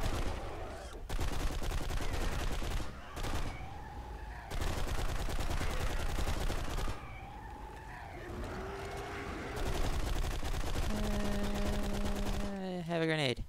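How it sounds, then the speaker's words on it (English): Bursts of rapid gunfire and grenade blasts in the video game BlackSite: Area 51 come in long loud stretches with short pauses, then a rising whine sweeps upward at the end. "Lots of explosions."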